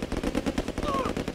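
Machine gun fire in the PC shooter Command and Conquer Retaliation: rapid, dense bursts of automatic gunfire rattling steadily through the clip at close range, with no speech.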